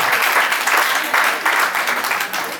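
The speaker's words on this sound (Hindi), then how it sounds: "जोरदार तालियां" Audience at the Rajasthan Karmveer Award 2024 ceremony breaks into steady, loud applause, a dense wash of many hands clapping continuously throughout, with no talk over it.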